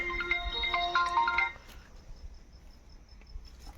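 A phone ringtone announces an incoming late-night call, playing a bright, repeating electronic melody for about a second and a half before stopping, leaving quiet room background.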